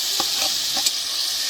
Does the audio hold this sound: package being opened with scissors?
no